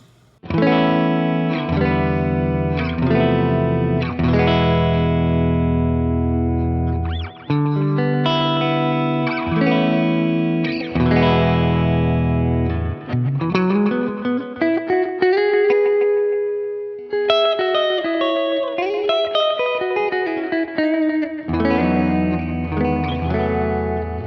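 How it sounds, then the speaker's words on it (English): Electric guitar chords and melodic lines through a Line 6 HX Stomp ping pong delay, repeating echoes bouncing back and forth, sustained notes trailing into layered repeats. "For foot switch 2, I have that routed to a ping pong delay, and here's what that sounds like."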